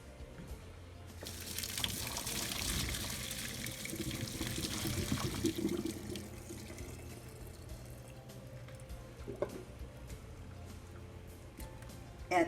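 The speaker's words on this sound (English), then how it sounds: "drain the water." Water pours and gushes steadily from a pot into a sink as cooked potatoes are drained in a home kitchen, a continuous splashing rush that swells early and then settles for several seconds.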